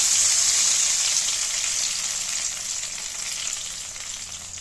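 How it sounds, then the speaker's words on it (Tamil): Steady hissing sizzle of small onions frying in hot oil, close and continuous, slowly easing slightly in loudness. "பதினஞ்சு சின்ன வெங்காயம் சேர்த்துக்கலாம் எண்ணெயில் நல்லா வதக்கிக்கலாம்"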